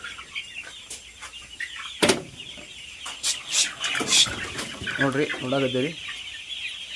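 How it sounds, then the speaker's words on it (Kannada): Several country chickens cluck and murmur nearby on a farm, with a sharp squawk early on and a person speaking briefly over the birds. "ಇವೆ ನಮ್ಮದು ಕೋಳಿಗಳು"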